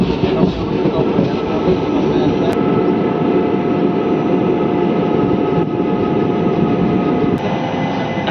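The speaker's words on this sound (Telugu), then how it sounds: "చిట్యాల స్టేషన్కి మన ట్రైన్ చేరుకుంది" The Guntur–Vikarabad Palnadu SF Express runs at speed with a loud, steady rumble and rattle of wagons, a couple of sharp clicks breaking the continuous roar.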